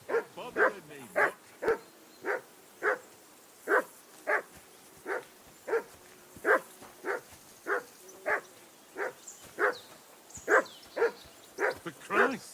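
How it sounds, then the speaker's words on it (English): Barking from a dog in a medieval role-playing game, Kingdom Come: Deliverance 2: a long run of evenly spaced, sharp barks, roughly two per second, fairly close and clear with nothing else over them. "Henry! Call off that damn dog before he wolfs down the last of our meat."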